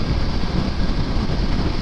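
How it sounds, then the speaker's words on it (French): Dense, roaring wind buffeting the rider's helmet on a BMW F750GS motorcycle at speed, a continuous loud rush with no pauses. "je prends tout le vent dans la gueule là"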